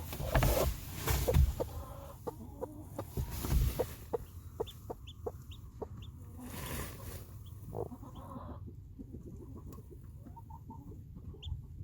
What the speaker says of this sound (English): So we need to let her dry under Mama Hen when she cracks out the egg.